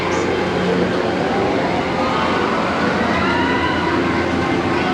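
Continuous loud rumbling of an amusement park trolley train ride passing close overhead at Islands of Adventure, a steady mechanical roar with no pauses throughout.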